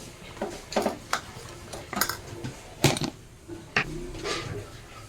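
A spoon scraping and clinking against a pan while peanuts are mixed with cardamom powder for a Makar Sankranti sweet, with irregular metallic knocks and stirring strokes close up.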